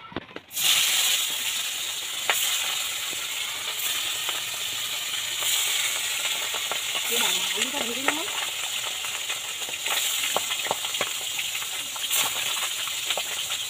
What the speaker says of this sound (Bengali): ভোলা মাছ ভাজা হচ্ছে